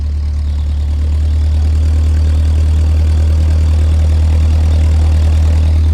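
A vintage Ford 2N tractor engine idles with a deep, steady low-pitched rumble, loud and close, holding an even pace throughout.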